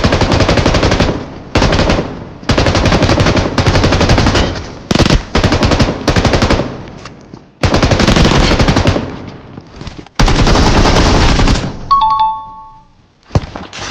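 Bursts of automatic gunfire in the mobile shooter BGMI/PUBG, loud rapid volleys broken by short gaps, with a brief chiming ding near the end before the firing resumes.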